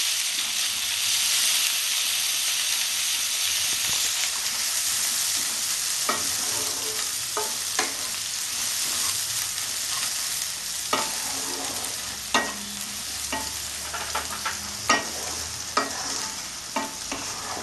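Sliced onions frying in hot oil in a pan for a Bengali-style rohu fish kofta curry, giving a steady broadband sizzle with occasional sharp spoon-scrape and stirring clicks toward the end, close and with no talk.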